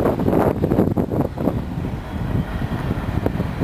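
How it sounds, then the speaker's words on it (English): A March wind and snow storm in Spokane roars against the microphone in rough, buffeting gusts, loudest at first and then settling into a steady blustery rush. "I'm going to go ahead and turn around now and face the wind and the snow."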